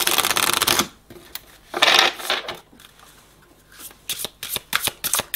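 Tarot cards shuffled for a spiritual card reading: a long riffling burst, a second shorter shuffle, then a string of sharp card snaps and taps, close and alone.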